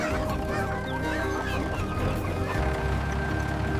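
Chickens cluck steadily on a farm, a busy overlapping flock heard close and continuous with no talking.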